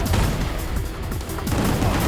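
Rapid, dense gunfire from the video game Gungrave G.O.R.E, loud close bursts of overlapping shots and booms packed into a continuous barrage.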